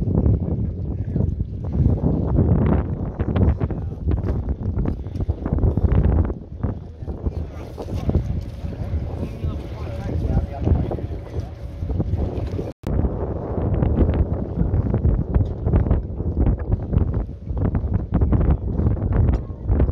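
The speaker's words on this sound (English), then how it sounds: "Some more wind." Strong wind buffeting a sailboat during an offshore sailing regatta out of Limassol, a continuous loud roaring rush with gusty microphone noise and water motion, a voice talking over it.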